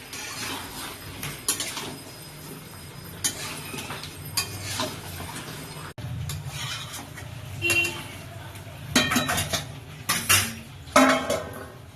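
Metal pot lid lifted off a pot of chicken curry, with scattered clanks and scrapes of metal cookware and utensils, a soft sizzle underneath, and moments of talk.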